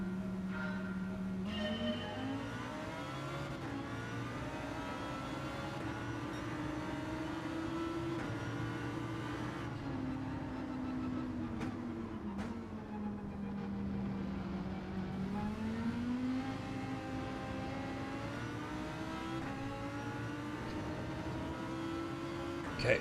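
A Lamborghini Huracan race car in Gran Turismo 7 on a São Paulo track, its engine droning steadily and loudly, climbing and dipping in pitch through shifts and corners, with a voice talking faintly over it.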